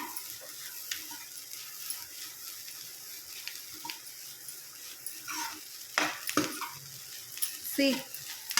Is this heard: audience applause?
no